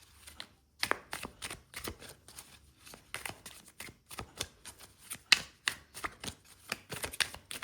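Tarot cards being shuffled by hand, a close, quiet run of irregular crisp flicks and riffling slaps, with no talking.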